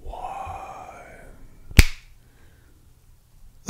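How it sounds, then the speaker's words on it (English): A single sharp finger snap, close and crisp, cutting through after a faint hum dies away, followed by near silence and a soft thump at the end. "I'm going to snap my fingers"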